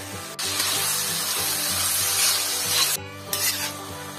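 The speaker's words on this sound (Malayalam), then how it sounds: "ഇനി സവാള പെട്ടെന്ന് വഴന്ന് കിട്ടാൻ വേണ്ടി നമുക്ക് പാകത്തിന് ഉപ്പ് കൂടെ ചേർത്ത് നന്നായിട്ടൊന്ന് ഇളക്കിയെടുക്കാം" Sliced onions with salt stirred in a pan for a mussel roast, giving a steady loud scraping, rubbing stir with a light sizzle that runs almost the whole time, with brief breaks near the start and toward the end.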